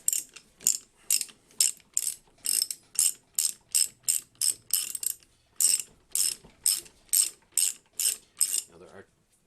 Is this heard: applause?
no